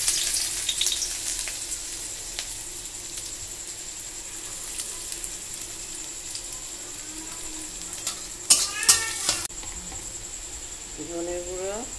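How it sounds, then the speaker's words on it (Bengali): Chopped onions fry in hot oil, a steady hiss and sizzle running throughout, with a brief clatter of stirring utensils near the end. "আর পেঁয়াজগুলোকে এবার আমি তেল দিয়েছি, তেলের মধ্যে পেঁয়াজগুলো দিয়ে দেবো।"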